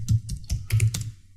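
A computer keyboard is typed on at close range, with about half a dozen crisp key clicks in quick uneven succession over roughly a second before they stop.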